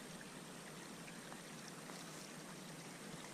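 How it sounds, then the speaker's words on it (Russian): A stream of water flowing in the woods in May near ice, a faint, steady hissing babble of trickling water with no voices. "А ручей все не заканчивается."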